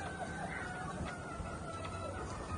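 Doc Halsey gray gamefowl clucking in a pen, with a faint, steady chatter of hens and roosters over a constant low background hum and no talk.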